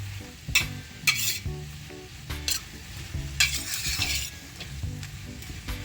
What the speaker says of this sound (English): So now I have garlic, I have my onion, my leek, and I have my celery inside my pot